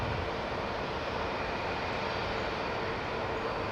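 A high-altitude jet airliner flying overhead near Heathrow Airport, a steady, broad distant roar that holds evenly throughout with no voices.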